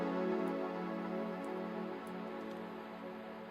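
Faint, muffled music with a warm, lo-fi tone from the RC20 plugin, soft crackle and occasional ticks running through it, played quietly throughout.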